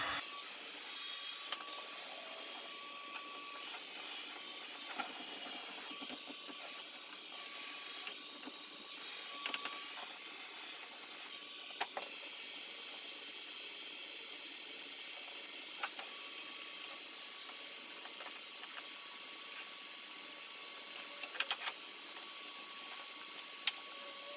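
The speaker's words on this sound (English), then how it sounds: "I have to work really, really fast with the heat gun because it's just going to cool the vinyl down" A heat gun blows hot air over vinyl wrap on a car grille, a soft continuous hiss with faint clicks and handling sounds throughout, quiet and alone.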